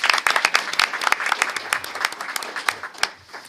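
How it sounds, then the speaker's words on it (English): An audience at a school district meeting gives its principals a short, fairly sparse burst of applause, with individual claps standing out clearly as the sound fades. "another round of applause for our principals."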